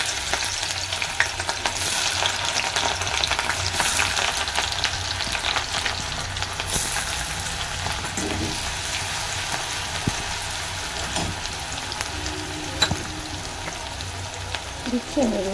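Onions sizzle and fry in hot oil in a kadai for a Manchurian gravy, a steady continuous crackle with occasional stirring scrapes, close and fairly quiet, with no talk.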